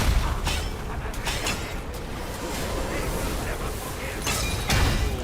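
A boss slamming down into the ground in a video game, setting off a heavy booming explosion with crashing bursts over a dense rumbling wash.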